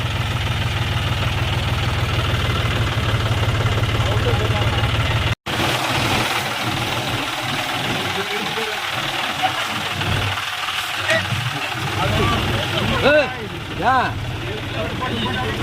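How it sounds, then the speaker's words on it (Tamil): A heavy tractor engine rumbles steadily and loudly throughout while carrying relief goods through a flooded area, with a brief cut partway through and faint voices mixed into the drone. "அந்த டிராக்டர் அந்த லைன்லேயே போகுது"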